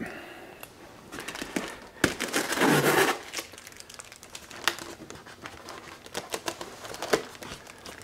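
Close, crinkly handling of tape, pulled and crumpled with scattered crackles and a louder sustained rustle midway, amid quiet clicks and taps, no talk.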